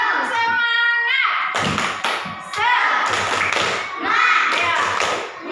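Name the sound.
children doing the rhythmic 'tepuk semangat' clap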